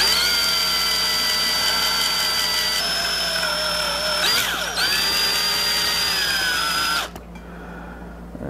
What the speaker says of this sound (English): I think I'm gonna have to drill it some more, make it collapse.